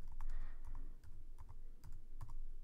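Rapid typing on a computer keyboard while entering answers for a Java driver's license exam program, irregular clusters of close, crisp key clicks with short pauses between bursts.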